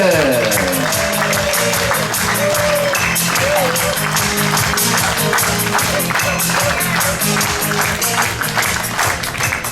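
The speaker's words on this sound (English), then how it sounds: "please welcome with a thunderous round of applause, Thom Peterson!" A comedy club crowd applauds as comedian Thom Peterson takes the stage, loud continuous clapping mixed with music and cheering, filling the whole stretch.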